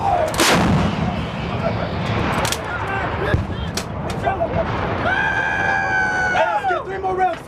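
Marine Corps artillery fires during Rolling Thunder field practice, with a loud sharp blast near the start and further booms, while a rooster crows and distant voices shout in the background.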